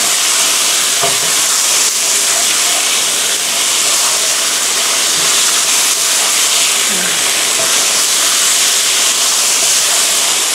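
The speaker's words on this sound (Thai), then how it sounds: "แล้วผัดให้เข้ากันนะคะ" Pork belly stir-fried with red curry paste and long beans in a pan, giving a steady, loud hiss and sizzle that runs unbroken the whole time, with faint clinks of stirring now and then.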